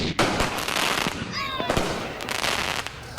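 Fireworks crackle and pop in a dense, noisy burst, with a whistling rocket rising partway through, loud and continuous across the stretch.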